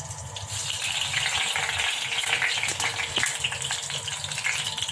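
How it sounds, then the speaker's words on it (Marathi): Mustard seeds fry in hot oil for a tempering of panchratna dal, giving a steady, dense crackle and sizzle with scattered sharper pops, close and fairly loud throughout, with no talking. "मोहरी तळली, आता जिरे टाकते."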